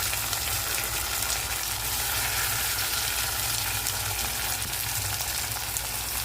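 Chopped tomatoes frying in a pan with browned onion, a steady dense sizzle and crackle running continuously, close and fairly loud with no talk over it.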